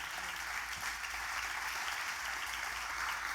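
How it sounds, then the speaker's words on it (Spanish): Church congregation applause, a dense and steady roar of many hands clapping throughout, even in loudness and heard without speech over it. "Dar un aplauso a Dios."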